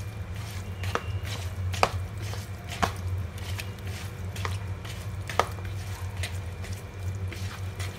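Soya chunks being hand-mixed with salt and oil, giving soft squishy, wet kneading sounds with a few sharper taps against the bowl, close and steady with no voices.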